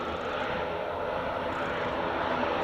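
An Aer Lingus airliner taxiing at Edinburgh Airport gives a steady, broad engine roar that stays level and fairly loud throughout, with no talking over it.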